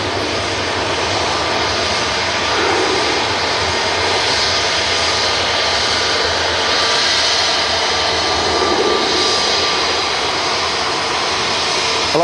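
An airliner at Manchester Airport lands and rolls off the runway, its jet engines a loud, sustained roar with rising and falling surges, steady for the whole stretch.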